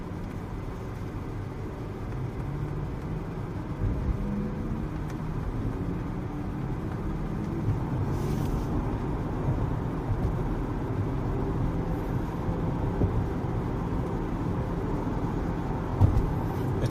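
A car cruising in semi-autonomous mode at up to 90 km/h, following the vehicle ahead on a curving course: a steady, even cabin rumble of road and tyre noise, with only a faint knock near the end.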